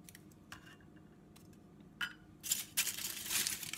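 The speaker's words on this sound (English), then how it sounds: "we're going to ball up little pieces of of aluminum foil and place them on the bottom" Small pieces of aluminum foil are balled up by hand for muffin tins, with a few faint taps and clinks and then a louder burst of crinkling and crumpling near the end.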